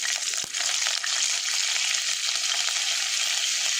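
Curry leaves hit hot oil that already holds fennel seeds for a Karaikudi-style stingray curry, setting off a loud, steady, hissing sizzle with a brief crackling burst near the start and no talking.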